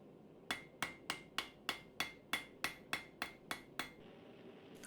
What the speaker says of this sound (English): continue to hammer, and you will round it over